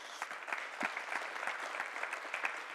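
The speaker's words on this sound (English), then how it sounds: "Can we give them a round of applause?" An audience at a green hydrogen summit in Oman claps for the panelists, a quiet, scattered patter of hands with distinct individual claps heard from a distance.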